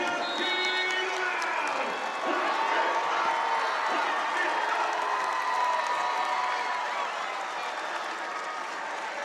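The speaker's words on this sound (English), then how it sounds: "The crowd loves it." Large indoor crowd at a professional women's volleyball match cheering and applauding after back-to-back aces give the home side set point, a sustained roar of claps and whoops throughout.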